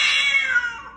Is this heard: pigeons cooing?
no